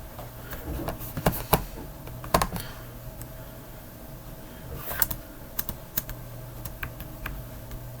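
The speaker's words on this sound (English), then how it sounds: "Use the keyboard to move it around." Someone types on a computer keyboard in short bursts of quick clicking keystrokes, separated by quiet pauses, fairly close and moderately soft.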